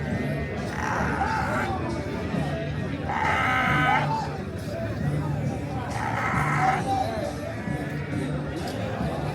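Goats bleating at a busy African livestock market, several loud calls rising in bursts over constant crowd chatter and nearby talk.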